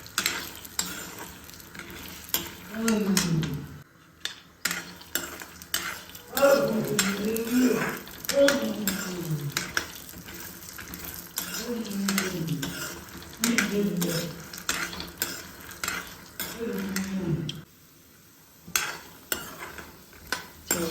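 Peanuts being stir-fried in a little oil in a pan for a puffed-rice chevdo snack, with a soft continuous sizzle under repeated scraping strokes of a spoon against the pan, close and rhythmic; a voice speaks intermittently.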